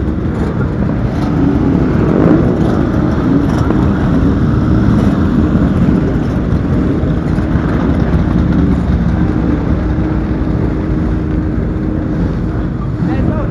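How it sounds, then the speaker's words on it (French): Harley-Davidson motorcycle riding onto a café racer race track, a steady loud engine drone held throughout, close and continuous with no break. "Il y a une Harley qui rentre sur la piste"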